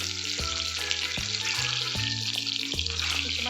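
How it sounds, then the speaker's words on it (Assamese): Duck eggs fry one at a time in hot oil in a wok, giving a steady bright sizzle throughout with no talking. "এতিয়া কণীখিনি এটা এটাকৈ ভালকৈ ভাজি লওঁ"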